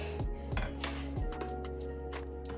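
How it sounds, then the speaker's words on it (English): A spoon clinks and scrapes against dishes while beef stew, cooked in a cooking machine the Kenyan way, is served onto a plate: a few sharp metallic knocks, then softer clattering close by. "I will serve in a plate just so you can see what it looks like."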